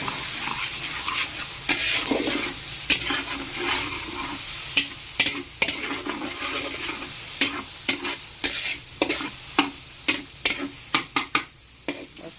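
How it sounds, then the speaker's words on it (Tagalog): Onions sauté in a pan for chicken arroz caldo, a steady close sizzle and crackle broken by repeated sharp scrapes and clacks of a utensil stirring, growing more frequent toward the end. "Hintay muna natin medyo lumata ang sibuyas."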